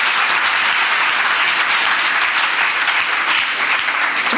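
A church congregation bursts into loud, sustained applause, a dense and even wash of clapping from many hands that holds steady and does not fade.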